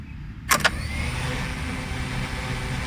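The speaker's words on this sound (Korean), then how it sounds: "브러시리스 모터의 회전하는 소리" Brushless motors on a K102 MAX toy drone spin up after a couple of quick clicks, settling into a smooth, steady whirring hum heard up close.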